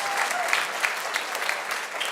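Audience clapping steadily at a church gathering, a dense even wash of applause with a few louder claps standing out, no voices on top.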